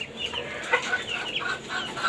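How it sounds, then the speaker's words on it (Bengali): A white tiger chicken on a rooftop farm atop a five-storey house clucks in a few short, moderately faint calls over a soft background hiss. "এটা আমার সাদা টাইগার মুরগি"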